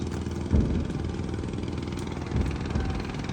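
A passenger river trawler's engine chugs steadily beside a riverbank, a low mid-pitched idling drone with a couple of brief louder thumps, continuous and fairly close, without voices.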